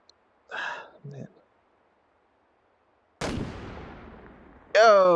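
Bolt-action rifle in the VR shooting game H3VR: one sharp, loud shot with a long decaying echo tail comes after a few soft vocal sounds and a pause, and then a voice follows.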